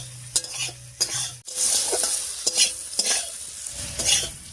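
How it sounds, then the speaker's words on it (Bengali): Bitter gourd slices fry in a pan over high heat with a steady close sizzle, broken by repeated scraping stirs of a utensil against the pan, no voices. "উনুনের আঁচটা বাড়িয়ে দিয়ে উচ্ছেগুলো বেশ লাল লাল করে ভেজে নিয়েছি।"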